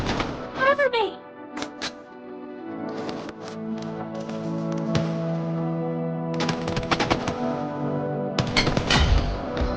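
Gunfire in the mobile shooter BGMI comes in quick bursts and single shots, loud and close, with game effects and tones in between, and a voice occasionally talks over the action.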